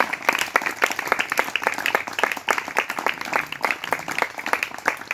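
Church congregation applauding in a worship service, a dense patter of many hands clapping close by, steady and lively throughout.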